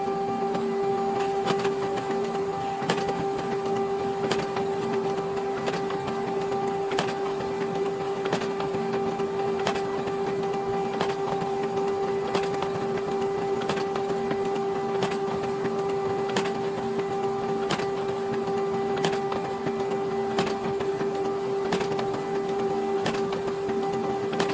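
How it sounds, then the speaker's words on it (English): An HP Color LaserJet Pro MFP M283 laser printer runs continuously, turning out pages at full speed with a steady mechanical hum and a regular ticking as each sheet feeds through. It stays close and even throughout, with no talking. "We'll have the printer push out as many pages as it can in 1 minute"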